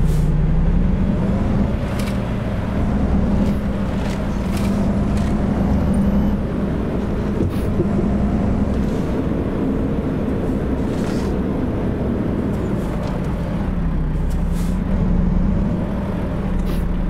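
A truck's engine drones steadily in the American Truck Simulator video game, a loud continuous low hum with brief hisses and clicks over it and no talk.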